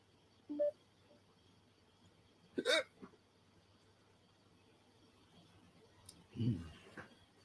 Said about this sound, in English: Had a hiccup.